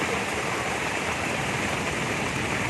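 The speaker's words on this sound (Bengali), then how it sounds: "প্রচুর বৃষ্টি হচ্ছে কাল বৈশাখীতে" Heavy Kalbaishakhi storm rain pours in a dense, steady roar of hissing downpour, loud and unbroken with no talk.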